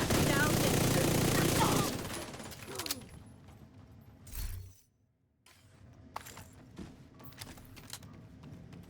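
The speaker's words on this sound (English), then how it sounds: "Throwing a frag." Frag grenade in a video game: heavy crackling gunfire at the start gives way to a dull explosion thump, followed by scattered shots and debris noises, with a voice talking over parts of it.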